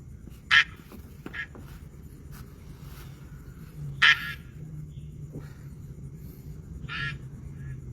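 Short quacking duck-like calls from a duck race game, a few separate brief bursts spaced over several seconds, set against a low steady background hum.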